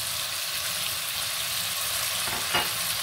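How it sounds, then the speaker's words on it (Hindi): Chicken for chicken noodles fries in a pan with a steady, dense sizzle throughout, broken by one brief louder crackle and scrape near the end; no voices. "ये देखिए, चिकन तकरीबन फ्राई हो रहा है।"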